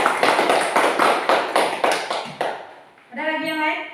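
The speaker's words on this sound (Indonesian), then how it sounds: "Berikan tepuk tangan pada Kak Deswan." A classroom of students claps for a classmate in rhythmic, unison beats, about ten sharp claps in a steady pattern, before the clapping stops and a voice speaks.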